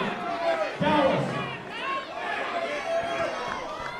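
A wrestling crowd at a Billington Bulldogs versus Bollywood Boyz tag match chants and shouts in rising waves, a broad roar of many voices with a commentator talking over it.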